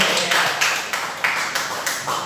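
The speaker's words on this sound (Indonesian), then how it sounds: "Tepuk tangan untuk Pak Anton ya." Brief clapping from an audience at a teacher-training presentation, a short burst of rhythmic claps in regular pulses, fairly close and moderately loud, with no talk.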